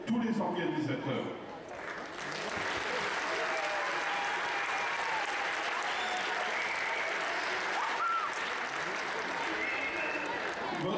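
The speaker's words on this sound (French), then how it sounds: "je vous propose d'applaudir tous les organisateurs." An audience at a mixed-team foil fencing event in Melun applauds the organisers with sustained, dense clapping that swells after a brief dip and carries on steadily, filling the hall.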